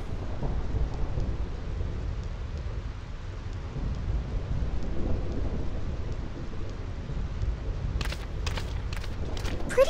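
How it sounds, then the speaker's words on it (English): Steady rain and rumbling thunder fill the Thunder Plains stormscape of Final Fantasy X HD, a continuous loud wash with sharper crackling strikes near the end and faint footsteps beneath. "This storm never stops."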